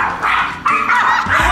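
Several dogs bark and yip at close range inside a home, with repeated sharp, loud barks in quick bursts and no talk over them.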